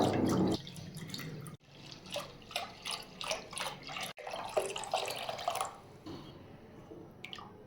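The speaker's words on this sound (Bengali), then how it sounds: "প্রথমেই উনুনে একটি কড়া বসিয়ে এক লিটার লিকুইড দুধ ঢেলে দিলাম" One litre of liquid milk is poured into a karahi sitting on a stove. A brief fuller pour opens, then faint liquid trickles and drips follow, with a few light clinks.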